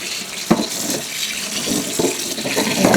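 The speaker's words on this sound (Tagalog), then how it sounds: "Hugasan ko lang mga itlog na to." Tap water runs steadily into a sink while eggs are washed, making a continuous close splashing hiss with a few louder splashes and knocks.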